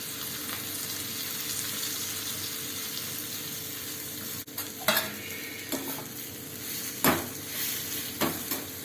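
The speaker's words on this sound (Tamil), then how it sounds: "இந்த புதினா இருக்கு இல்லையா" Mint leaves fry in strained oil in a pan while being stirred, giving a soft, steady sizzle with scattered scraping clinks of the utensil growing more frequent in the second half; no one speaks.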